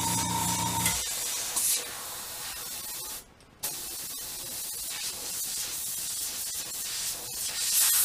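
Airbrush spraying paint with a steady, close, loud hiss that runs almost continuously, briefly cutting out once before resuming.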